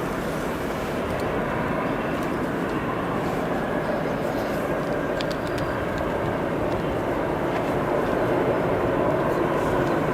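Southwest airliner taxiing at O'Hare, a steady broadband engine roar and rumble that stays loud and even throughout, heard from a distance with no voices.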